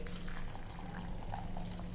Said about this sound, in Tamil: இப்போ இதில் தண்ணி ஊற்றி